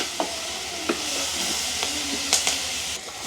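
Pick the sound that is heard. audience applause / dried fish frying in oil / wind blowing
dried fish frying in oil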